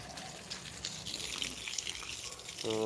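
Heavy rain pouring down outside a house, a constant rushing wash of water with scattered splashes, and a voice briefly speaking at the very end.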